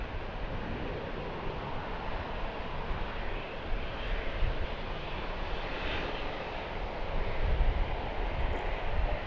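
An airliner beginning its takeoff roll at Dallas Fort Worth airport, a broad engine roar that builds slightly toward the end, heard from a distance with wind.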